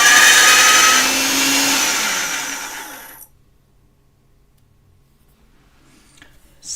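A jewelry-making machine runs with a loud, steady whirring hum for about three seconds as clay is rolled flat for a bezel, then cuts off into near silence.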